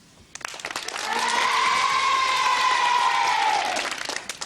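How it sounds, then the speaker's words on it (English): A children's TV game show studio audience bursts into cheering and applause, rising quickly to a loud sustained roar with high shrill cheers on top, then fading into scattered clapping. "And a better cheer from them this time"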